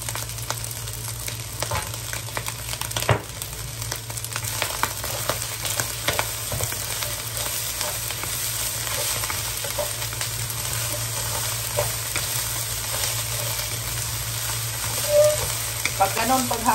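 Fried rice with egg and Tulip pork luncheon meat with whole kernel corn sizzles steadily in a pan, with scraping stirs and clacks of a utensil over a constant loud frying hiss, no talk.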